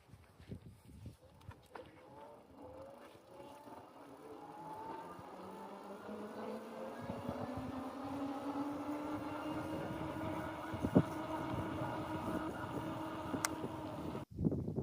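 A OneSport OT16-2 eBike accelerating on throttle alone under a heavy rider, its motor whine rising steadily in pitch and growing louder, mixed with road and wind noise.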